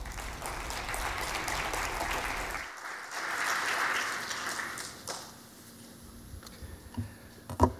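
Morning conference audience applauding a panel of five speakers, a broad wash of clapping that swells, briefly drops, then continues before thinning out into scattered claps and a few knocks near the end.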